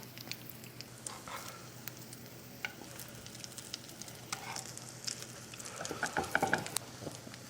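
Paneer kebab sizzles softly in a pan over a low flame, a faint, steady crackle with scattered small pops that grow a little busier toward the end, with no voices.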